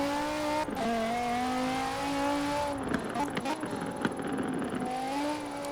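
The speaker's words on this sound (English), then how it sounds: "But it sounds so much better than the normal Viper sound." Dodge Viper engine in Forza Horizon 4, with active aero and ABS off, droning at steady high revs with clear harmonics, then a burst of shifting and revving mid-clip before settling back into a smooth, loud tone.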